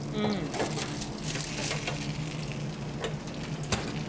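Bacon crisping in hot oil gives a steady, close crackling sizzle with scattered pops across the whole stretch, no talk over it.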